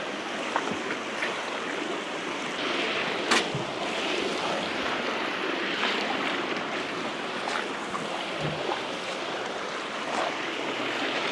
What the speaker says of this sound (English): how it's just nicely dancing around that pan mixer